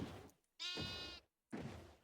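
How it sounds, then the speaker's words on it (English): A pink sheep in Minecraft bleats in two clear, close calls separated by a short silence, each a loud wavering bleat. "I'm taking this pink sheep home."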